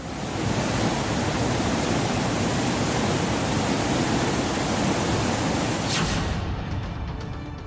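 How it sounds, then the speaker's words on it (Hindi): Fast-flowing floodwater in Maharashtra surging around the Kedareshwar temple grounds, a dense, loud, unbroken roar of rushing water that cuts off abruptly near the end. "पानी का वेग इतना तेज है कि इसकी चपेट में केदारेश्वर मंदिर परिसर भी आ गया।"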